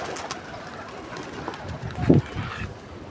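Pigeons peck at scattered grain, with soft, low cooing rising briefly over a faint, steady outdoor background.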